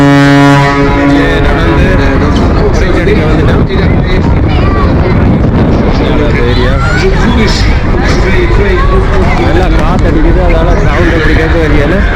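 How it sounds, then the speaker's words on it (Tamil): A deep ship's horn blares for a moment at the start at the port of Rotterdam, Netherlands, then gives way to steady wind noise and a babble of voices. "கோன் அடிக்கிறது தங்களுக்கு டிஸ்டர்பாக இருக்குது"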